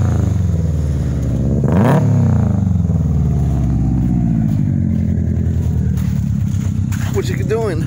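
A Subaru WRX engine revs up and down close by during a first drive in snow, its low growl swelling and falling continuously, with a voice speaking over it.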